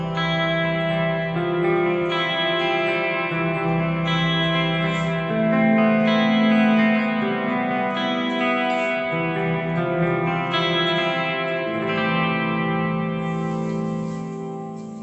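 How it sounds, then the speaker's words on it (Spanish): Electric guitar through a Headrush unit with chorus, delay and Air Reverb switched on, sustained shimmering chords with lush echoing tails over fifteen seconds, steady and full with no talking. "Voy a encender el chorus y voy a encender el delay y el air reverb"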